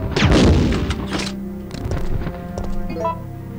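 Gunshots fired at a zombie in Resident Evil 3, several loud close booms and heavy thuds that are densest at the start, followed by scattered impacts and clatter.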